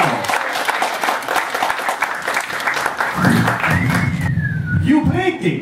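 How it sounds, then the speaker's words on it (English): A stand-up comedy audience gives a comedian a loud round of applause and clapping, and then a voice starts talking over the fading claps. "So please give a warm round of applause"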